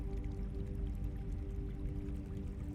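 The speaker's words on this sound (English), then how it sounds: "You can hear the sound of a small fountain nearby" A small fountain bubbles softly nearby, its gentle, steady water sound running continuously under a low, even background hum.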